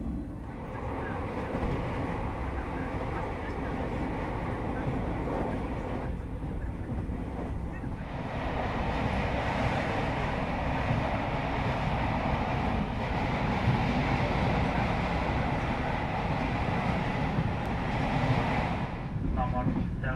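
Interior of a moving economy-class passenger train on its first run, with a steady low rumble and rolling rail noise throughout, rising slightly midway, and a faint murmur of voices in the carriage.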